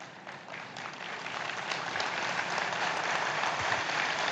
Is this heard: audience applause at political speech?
yes